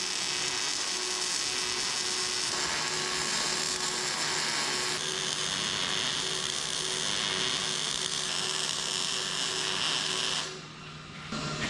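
Welding a body panel on a 1984 Chevrolet S-10 truck, a continuous loud buzzing crackle with a steady electrical hum, running unbroken for about ten seconds before cutting off near the end.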